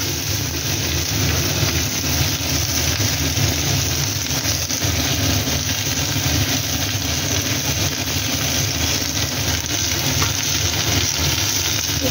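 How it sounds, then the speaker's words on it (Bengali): Chilli soya pieces fry in a salted pan with a steady, close, unbroken sizzle and hiss that holds evenly from start to finish, with no talking. "এটা আমি ভাজতে থাকছি।"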